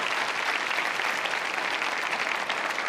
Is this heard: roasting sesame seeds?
no